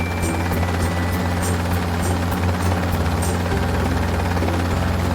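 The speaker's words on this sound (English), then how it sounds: "Look at the helicopter fly away." A helicopter's rotor thumps steadily in a loud, continuous whir that shifts slightly in pitch partway through, with no voices.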